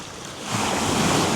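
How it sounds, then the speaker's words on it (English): Ocean surf breaking along the granite coast of the Isles of Scilly, a broad steady wash of waves that swells louder halfway through, with wind noise on the microphone and no voices. "Can you see those waves breaking?"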